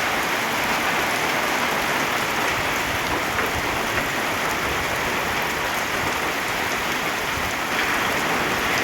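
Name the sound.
sudden heavy rain downpour on a mountain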